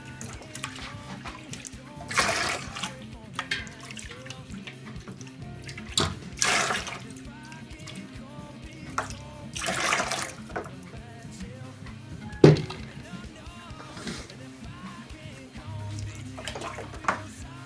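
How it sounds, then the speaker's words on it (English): A small hose rinses out a beer brewing container, producing intermittent splashing and running water bursts with soft gurgles in between, close and moderately loud. "you can rinse it out with your little hose here"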